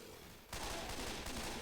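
Dense gunfire in the video game Left 4 Dead erupts after a brief lull, a loud continuous barrage of rapid shots layered on top of each other.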